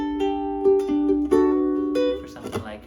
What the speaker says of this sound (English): or just have a nice clean sound like this with the reverb.